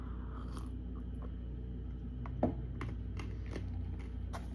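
Bamboo salt being crunched between the teeth, a few sharp bites and gritty chewing crackles close to the mic, one louder crunch midway, over a low steady hum.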